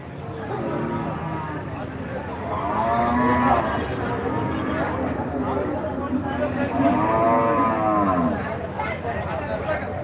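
A white calf moos repeatedly at a cattle market, its long, loud, drawn-out calls rising and falling close by over a murmur of market noise and voices.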